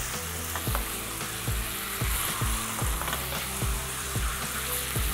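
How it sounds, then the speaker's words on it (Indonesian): Beef for malbi, an Indonesian braised dish, sizzles steadily in a hot pan, with a series of regular scraping knocks from a spatula stirring the meat every half second or so, close and fairly loud, with no talking. "Kita masukkan sekarang dagingnya. Kita aduk sampai berubah warna."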